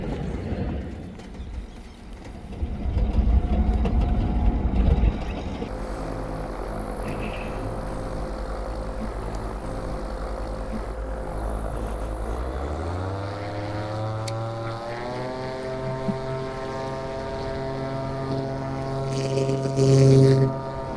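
A paramotor engine and propeller during a crosswind launch, a droning engine that steadies and then rises sharply in pitch and loudness as it throttles up, heard from nearby over wind noise.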